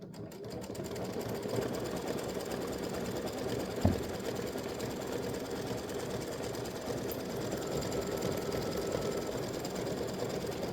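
A home embroidery machine stitches a decorative border around the edge of an appliqué, its needle running in a steady, fast mechanical chatter that holds level throughout, with one brief clack partway in.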